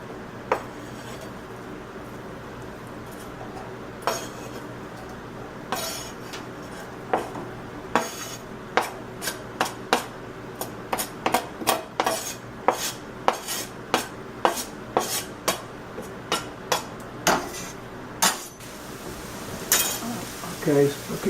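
A spoon scrapes and clinks against a cooking pan while a low-fat spaghetti sauce is turned, in irregular taps that grow busier and louder toward the middle, with a voice speaking over it.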